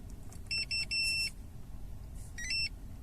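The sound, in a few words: Starline i96v2 immobiliser confirmation bleep in VW Passat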